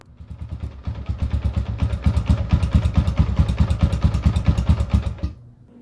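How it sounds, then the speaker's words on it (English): A flooded Honda XR650R motorcycle engine runs with a loud, rapid, lumpy thumping close by for about five seconds, then cuts out abruptly and falls silent. "Now I will lay the bike down and let it flood out and shut off."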